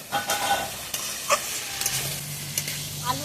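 Potatoes tipped into hot oil with leafy greens and stirred, giving a continuous close sizzle and frying hiss broken by scraping strokes of the spatula, with no talking.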